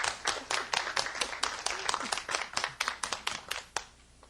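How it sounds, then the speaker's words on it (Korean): Audience clapping during a Korean educational lecture about vegetables, a burst of quick, crisp hand claps from a small group that continues steadily for about four seconds before stopping abruptly. "이럴 때 박수 한번 쳐야죠"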